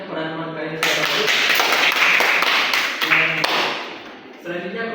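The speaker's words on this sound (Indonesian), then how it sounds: "anak-anak beri applause tepuk tangan kepada teman kalian secara baik" Schoolchildren in a Javanese-language class clap for their classmates, a dense burst of many hands that starts abruptly, fills the room for about three seconds, then thins out as talking resumes around it.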